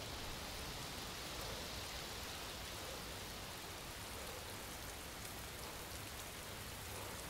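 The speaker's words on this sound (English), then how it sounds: "And it's starting to rain." Steady rain falling in the DayZ video game, a dense even hiss with faint scattered patter, constant and fairly quiet throughout with no other sounds or talk.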